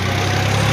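A brief, steady low drone from a 40-horsepower tractor engine ticking over at idle, close and even.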